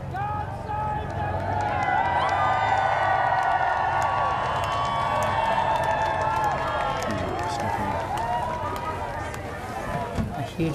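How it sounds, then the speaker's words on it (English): A large crowd cheers continuously as King Charles and the Queen arrive with a police outrider escort, a loud sustained roar with whistles and scattered shouts, a commentator's voice faintly beneath. "And a huge cheer"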